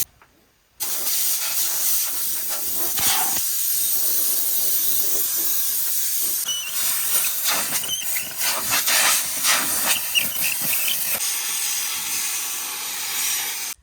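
A compressed air line blows out a combine harvester during wheat harvest, a loud continuous hiss with fluctuating bursts as the nozzle moves, starting abruptly after a brief quiet moment.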